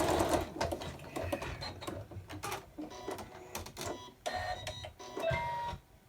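An embroidery machine stitches out a gingerbread boy tree hanger, its needle chattering in quick, uneven bursts with motor whirs and short pauses, close and fairly quiet.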